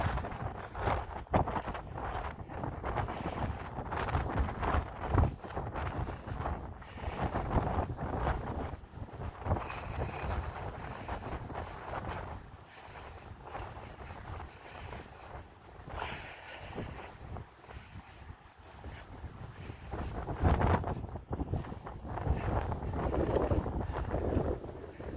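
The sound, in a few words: strong wind on a morning walk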